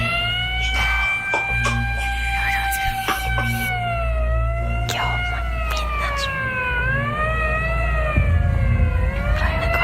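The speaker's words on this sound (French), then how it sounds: "Les sirènes hurlent à l'entrée du parc." Police sirens wail steadily at a park entrance, several overlapping rising and falling tones, loud and continuous over a low engine rumble.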